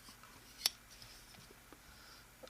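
A single crisp metallic click as the blade of a Protech knife with an S35 steel blade locks open, near and brief against a faint background hush.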